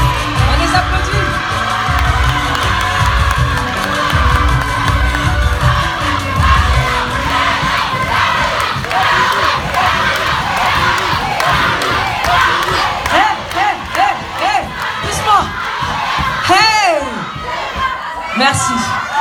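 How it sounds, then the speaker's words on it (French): An audience at a Miss Soninké France pageant on stage applauds and cheers loudly, with shouts and whoops over sustained clapping and a few voices rising through the crowd noise. "On les applaudit."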